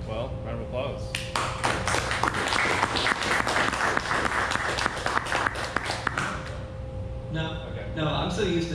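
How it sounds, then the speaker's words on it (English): A room full of people claps for several seconds, dense applause that tapers off, with talking before and after. "round of applause"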